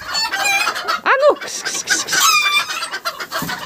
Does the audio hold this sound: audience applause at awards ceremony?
no